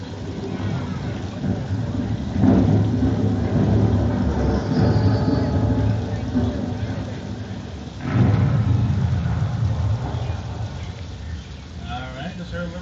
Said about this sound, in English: this is a little thunder and audio effects done for speakers